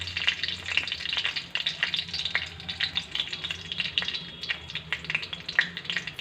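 Dried red chilies and asafoetida frying in hot oil with fenugreek seeds crackle with dense, rapid pops and spits over a low steady sizzle, close and fairly quiet, with no voices.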